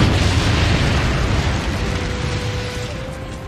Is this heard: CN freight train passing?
no